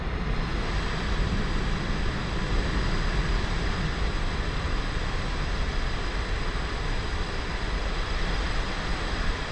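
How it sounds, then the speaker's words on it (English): Broad, steady roar of jet aircraft in a flight simulator game near a runway, a continuous dense engine rumble and hiss that holds evenly throughout, fairly loud with no talking. "See if you can hear the jets go by."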